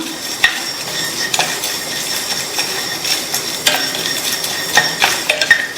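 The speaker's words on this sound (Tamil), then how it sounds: "1 டீஸ்பூன் சீரகம், அரை டீஸ்பூன் சோம்பு, ஒரு சின்ன பீஸ் பட்டை, ஒரு அன்னாச்சி பூ, 2 ஏலக்காய், 2 கிராம்பு, எல்லாத்தையும் வாசனை வர வரையும் வறுத்துக்கலாம்" Whole cumin, fennel, a piece of cinnamon, star anise, cardamom and cloves dry-roast in a pan, stirred with a spoon that gives loud, close scrapes and clinks over a faint sizzle.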